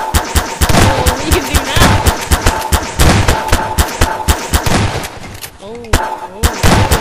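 Rapid, loud gunfire from a gun in Garry's Mod sandbox play, dense bursts of shots running almost continuously with brief gaps, while a voice talks over it.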